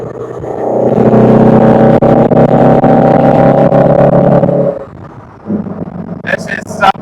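The engine of a 1966 Lancia Fulvia roars loudly up close as it accelerates, then drops away, with a voice talking and a brief high tone near the end.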